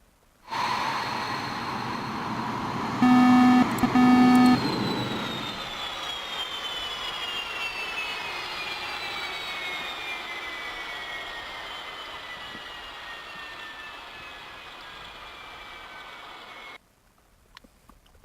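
A Mirage 2000C fighter jet engine whines loudly at night, then spools down in a long falling hiss and drone that fades steadily until it stops, with a brief mechanical clunk near the start.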